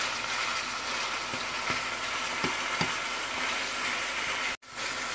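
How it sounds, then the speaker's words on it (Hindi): Minced meat (qeema) frying in a pan with salt, a steady loud sizzle throughout with a few scraping stir clicks and a brief drop near the end. "कीमे की भुनाई बड़ी ज़बरदस्त सी हो रही है"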